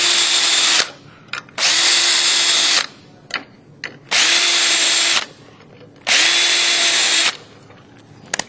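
Power drill starting screw holes in a bracket during trim installation for a wall panel system, running in three loud sustained bursts of about a second each with short pauses and small clicks between them, no talking.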